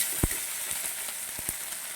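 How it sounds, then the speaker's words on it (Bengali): Makka fish frying in hot oil in a pan: a steady close hiss of sizzling broken by several sharp pops and crackles. "সবগুলা মাছ দিয়ে দিচ্ছি, এবার ভেজে নেব ডান হাতে"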